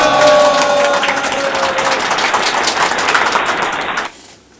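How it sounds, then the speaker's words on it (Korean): An audience at a talk festival on the defense industry gives loud, sustained applause to welcome a speaker, and it cuts off sharply near the end. "여러분 뜨거운 박수로 맞이해 주시기 바랍니다"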